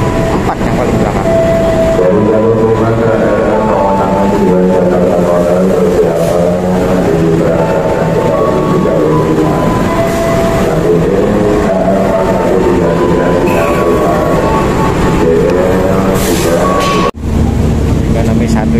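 Inside a moving KA Pangrango passenger train on the Bogor to Sukabumi line, a loud continuous rumble of wheels on rails rolls on beneath steady voices.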